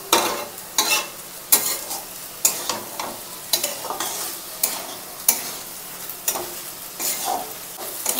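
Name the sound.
stirring rice with spices in a pot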